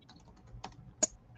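Keys tapped on a computer keyboard in a few scattered, quiet strokes, with one sharper click standing out near the end, set against a low room background.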